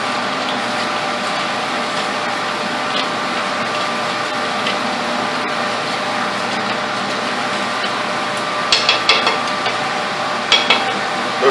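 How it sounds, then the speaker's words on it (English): A stick stirs clear coat paint mixed with flattening paste, making a steady, close, swishing churn with a few sharper clicks near the end. "I'll stir till that flattening paste goes away"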